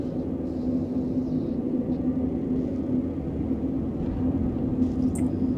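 Alien spaceship engine in the Star Citizen game, a low, steady humming rumble with a faint eerie tonal drone sitting above it, continuous and even throughout with no talking.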